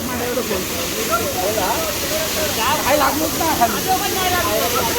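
Constant hissing roar of water pouring down at Chander waterfall in Malvan, Konkan, continuous and fairly close, with people chatting over the noise.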